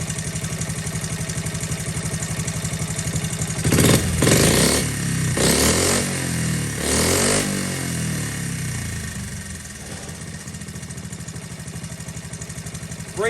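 Steady close-up idle from a Honda Z50K2 motorcycle engine: an even, fast putter that briefly rises in a few louder bursts midway, then drops back to its regular idle.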